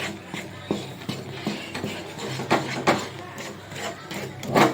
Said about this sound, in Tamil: விடாமல் கிண்டிக்கிட்டே இருக்க மாவு ஃபுல்லாக கட்டி விடாமல் நம்ம இழுத்து கிண்டிக்கிட்டே இருக்கணும்